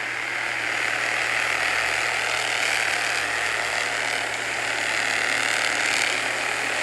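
Race car engines roar together at a green flag restart, a loud, steady mechanical drone that stays even throughout with no voices.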